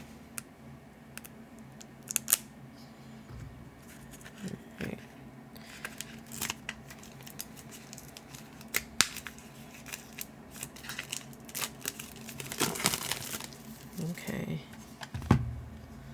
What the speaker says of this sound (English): let's dig into the cards, which are also shrink wrapped. So let's open that up